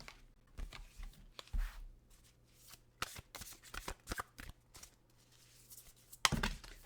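Oracle cards shuffled by hand nearby, a quick run of crisp riffling and slapping bursts with short pauses, ending in one louder snap of the deck, with no talk.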